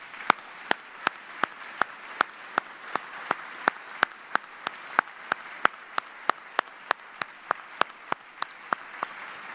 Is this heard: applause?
yes